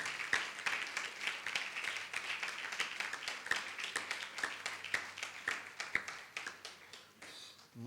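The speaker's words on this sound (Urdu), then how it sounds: "تالیاں بجائیے کلیسیا۔" A church congregation claps along in a steady rhythm, soft and somewhat distant, with sharper individual claps standing out at regular intervals before it trails off.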